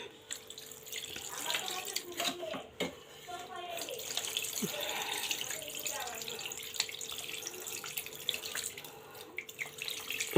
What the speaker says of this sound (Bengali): এখন আমি পানি দিয়ে দিব পরিমাণ মতো।